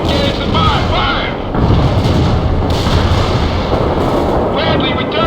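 Bradley armored vehicle gunfire in the battle game World in Conflict, loud continuous booming and rattling shots over a rumbling combat din, with radio voices talking over it.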